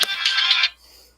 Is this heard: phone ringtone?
yes